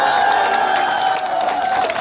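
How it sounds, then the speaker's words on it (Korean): An audience at a city council member's public activity report event claps loudly and cheers in a brief, dense burst, with whoops and a bright tone running through it. "이렇게 박수엔 함성이 더해져 있어야 더 신이 난다고"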